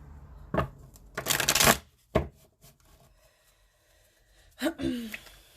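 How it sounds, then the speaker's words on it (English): A deck of tarot cards is shuffled in a few quick riffling bursts, with soft rustles and brief breaths in between. "Let's do a little shuffle."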